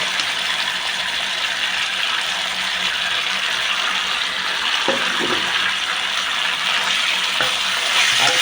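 Stir-frying in a pan with shallots and holy basil added: a steady loud sizzle with a ratchety scraping texture and occasional clinks of a utensil, no talk over it.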